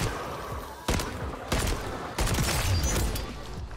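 Bursts of gunfire from a Striker 9 in MW3 Warzone, three sharp rapid-fire volleys separated by short pauses, loud and close with no talk over them.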